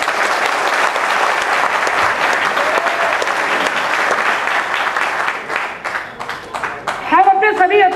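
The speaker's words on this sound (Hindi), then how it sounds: "एक बार मेरी तरफ से बड़ी जोर से तालियां बजाइए" Loud audience applause at a political speech event fills most of the stretch, a dense sustained clapping that thins out toward the end as a voice begins speaking.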